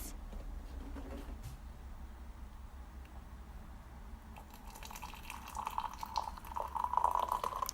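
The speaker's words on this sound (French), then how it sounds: "Je vais mettre de l'eau dans ma tasse." Water pours from a kettle into a cup during a calm autumn morning routine: a quiet trickle that swells into a steady, brighter stream toward the end, heard alone against a soft room hush.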